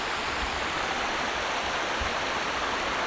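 A waterfall in the Scottish countryside gives a loud, close, constant rush of falling water, steady and unbroken, with no one speaking.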